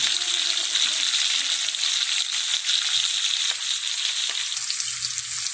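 Milkfish (bangus) sautéing in a hot pan for paksiw, a steady, loud, continuous sizzle and crackle of oil with faint occasional clinks, no talking.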